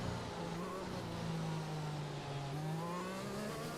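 A Formula 1 race car in the F1 2021 video game swerves to warm its tyres, its engine a steady high drone that rises and falls slightly in pitch as it weaves, close and continuous.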